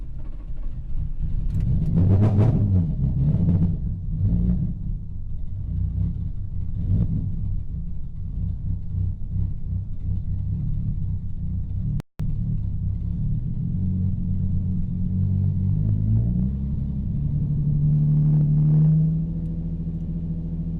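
A Nissan 350Z with a rear-mounted turbo engine on a new tune starts cold, cranking and catching with rough, uneven rumbling bursts, cutting out briefly, then settling into a loud, lumpy idle close by.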